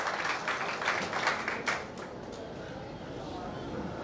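An audience at a community event in Mumbai applauds to welcome students, a burst of clapping that fades after a couple of seconds into murmuring crowd noise.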